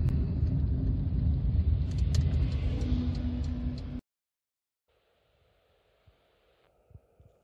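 Interior of a 2006 Rover CityRover 1.4 driving on road, a steady low engine and road rumble for about four seconds before cutting to near silence with faint soft thumps.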